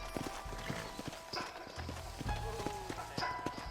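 In the video game Red Dead Redemption, a horse's hooves clip-clop in an even walking rhythm, moderately close, over faint ambient game sounds with a brief low rumble partway through.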